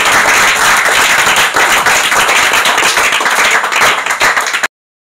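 An audience claps steadily and loudly at a coaching centre cricket prize ceremony, a dense burst of applause lasting several seconds before cutting off abruptly.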